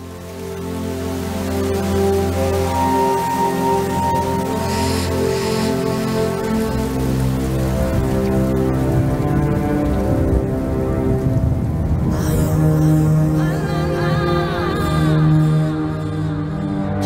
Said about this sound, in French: Avec l'arrivée de la pluie, le Linyanti se transforme en une plaine inondée.